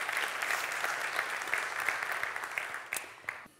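Steady audience applause for a speaker at a public academy event on child poverty in Friesland, a continuous wash of clapping with a few sharper claps near the end.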